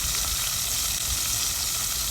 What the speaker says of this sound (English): It's still sizzling pretty good.